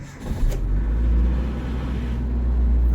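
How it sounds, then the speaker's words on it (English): A Nissan D21 Hardbody pickup truck with a flickering oil pressure light starts, and its engine settles into a loud, steady, close low rumble with no talk. "I'm going to go ahead and start it up."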